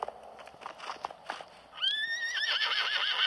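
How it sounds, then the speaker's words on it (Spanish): A horse in the Project Evo video game clops along with soft hoofbeats, then lets out a loud, wavering neigh that carries to the end. "No salta el caballo."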